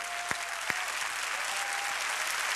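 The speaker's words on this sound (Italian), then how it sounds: "Continuiamo questo applauso per il maestro Frank Carpentieri." Broad, sustained applause from a large audience at an Italian stand-up comedy show, a continuous hiss of many hands with a couple of louder individual claps early on and a faint tone underneath.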